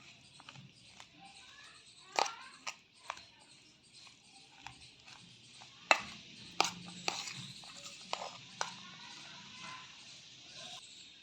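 Cheese chilli bread filling with black pepper is being mixed in a bowl, giving irregular soft scraping and tapping clicks at close range, fairly quiet, with no talk.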